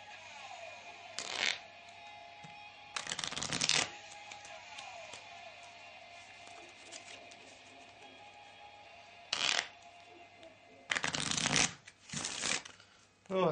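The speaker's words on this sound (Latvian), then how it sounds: "Tagad es jums iedodu kārtas atkal un jūs viņus varat samaisīt." Playing cards being shuffled in several short riffling bursts during a card trick, separated by quieter stretches, close and clear with no talking.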